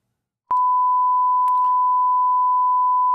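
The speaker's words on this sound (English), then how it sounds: "That's a 1 kilohertz sine wave." A pure 1 kHz sine wave test tone starts abruptly and holds steady and loud for nearly three seconds, alone with only a faint click or two.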